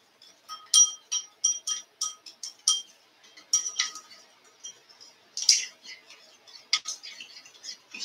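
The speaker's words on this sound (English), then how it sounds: "I'm going to stir that together." A utensil stirs sofrito marinade with meat in a bowl, giving a quick series of light clinks and taps that is irregular but continuous, close and fairly quiet, with no voice over it.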